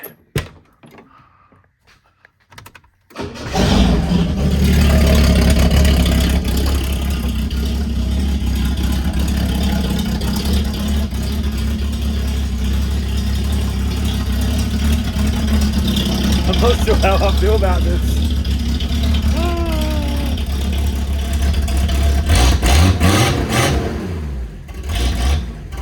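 A six-cylinder Ford car engine with a blown-out muffler cranks and catches after a short pause, then settles into a steady low rumbling idle with occasional revs; a voice speaks briefly over it.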